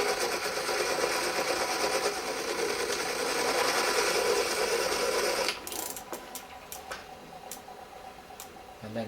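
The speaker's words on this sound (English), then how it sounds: "Now this is a flywheel, so the idea is you get it turning quite fast." A hand-spun flywheel turns fast with a dense whirring rattle that suddenly drops away, leaving faint ticking and clicks as it slows, close by.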